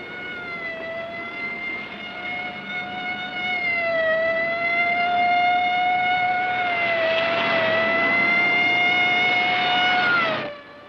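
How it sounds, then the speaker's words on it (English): Police car siren wailing during a movie chase, a loud sustained tone that rises and dips slightly over engine rumble, cutting off abruptly at the end. "Lay on the siren, give it everything."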